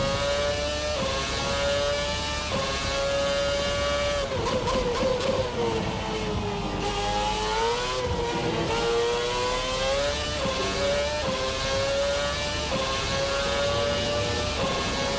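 Formula RSS 2013 V8 race car engine in a racing game, a loud sustained harmonic howl that dips and climbs through gear changes and throttle lifts, running steadily for the whole stretch with no talk.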